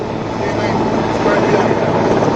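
Two Sea King 42C helicopters fly in a naval air power demo at an international city parade, a steady broad rotor-and-engine roar holding loud and even throughout.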